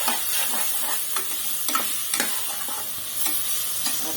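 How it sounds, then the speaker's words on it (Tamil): Green chilies sizzle and fry steadily in a hot pan, with occasional stirring scrapes and pops, close up and with no talking. "கீராத அப்படியே போட்டு வதக்கிக்குவோம்."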